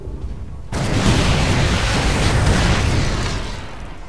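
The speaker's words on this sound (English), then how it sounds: "Pretty good Widow Mine hit there." A Widow Mine detonates in a StarCraft 2 match, a sudden loud blast that bursts in after a quiet moment and rumbles on steadily for several seconds before easing off near the end.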